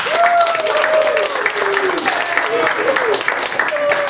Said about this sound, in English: if we can hear a round of applause for the first team that went Team No Girls Allowed